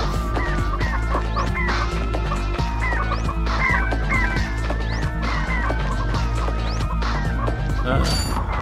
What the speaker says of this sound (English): Let's make chickens.